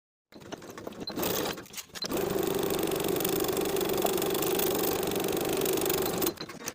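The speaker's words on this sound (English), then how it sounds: "Sewing with a 1/4 inch seam allowance, sew one short end and the long edge." Sewing machine sewing a quarter-inch seam along a fabric tie strap for a blouse, a brief whir, a pause, then a long steady motor hum that cuts off near the end.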